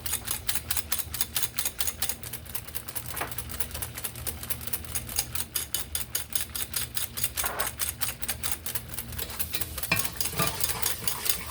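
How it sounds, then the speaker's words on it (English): A spoon stirs a sugar base for a sweet potato topping in a pan, giving a rapid, even clatter of scraping taps, close and continuous, with a faint sizzle beneath. "I'm just mixing this the sugar base that goes over the sweet potato"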